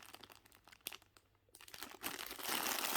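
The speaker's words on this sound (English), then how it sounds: "Sorry for the crinkling." Packaging crinkling close by, with quiet scattered rustles, a brief pause, then louder continuous crinkling and crunching that swells toward the end.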